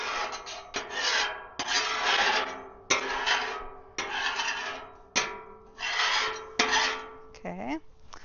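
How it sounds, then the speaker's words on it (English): A metal scraper rasps across the steel cooktop of a Blackstone griddle in repeated long strokes, close and loud, with brief pauses between passes and no talking. "Give it a little scrapey scrape here."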